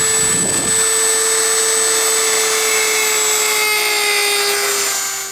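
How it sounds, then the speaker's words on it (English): Dremel rotary tool with a grinding bit working inside a metal socket to thin its walls, a loud steady high-pitched whine with a faint slow drop in pitch, running continuously throughout with no talk. "So I'm going to use a bit like this on my Dremel and start grinding."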